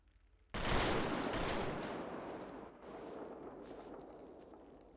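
Ceremonial rifle volley at a memorial honor guard: one sharp, loud simultaneous crack of several rifles, followed by a long, rumbling echo that slowly fades.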